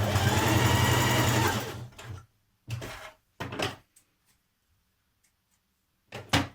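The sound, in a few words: sewing machine stitching sweatshirt seams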